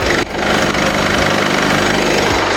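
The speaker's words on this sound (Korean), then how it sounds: "영상으로 엔진 소음 한번 담아보도록 하겠습니다" A diesel engine in an Infiniti Q50 idles with the hood open, a steady, dense close-up rumble that holds at an even level with no voices.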